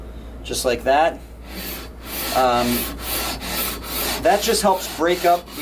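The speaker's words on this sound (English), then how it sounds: "if I run this shorter leveling beam across like this, kind of steadily going back and forth" A short leveling beam with 80 grit paper sanded steadily back and forth across a hard ebony guitar fretboard during a refret, giving rhythmic rasping strokes up close while someone talks over them.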